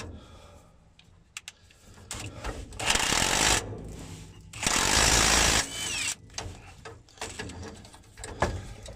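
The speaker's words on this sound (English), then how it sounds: "So now we'll grab the old power tool here." A power tool on a 2006 Ford F350 during carrier bearing replacement runs in two loud, steady bursts, each about a second long, separated by quieter clatter and handling noises.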